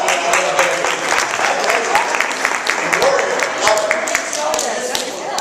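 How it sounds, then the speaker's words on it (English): Audience at a real estate investment seminar breaks into a full round of applause, dense steady clapping lasting throughout, with voices murmuring underneath. "All right, big round of applause."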